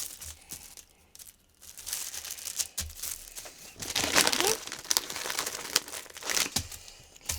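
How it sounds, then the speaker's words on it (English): Sheets of tracing paper crinkle and rustle in bursts while being pinned over a sewing pattern, close and crisp, with quieter pauses between handling. "And then I'm going to pin down my actual tracing paper so it makes a nice accurate edge."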